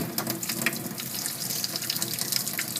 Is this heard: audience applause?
no